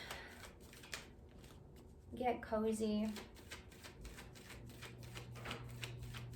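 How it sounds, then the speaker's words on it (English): Tarot cards shuffled close by with quick, crisp riffling clicks while a soft voice speaks gently over them. "while I shuffle these cards"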